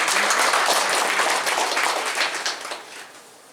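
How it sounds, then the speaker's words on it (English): An audience at the inaugural ceremony of the RICE 2023 international conference breaks into a dense round of applause that is loud at first and then fades away, with no one speaking. "Big round of applause for you."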